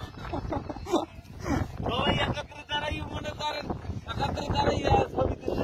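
Sea wind blows across Kuakata beach, buffeting the microphone with gusty rumbling under continuous close conversation.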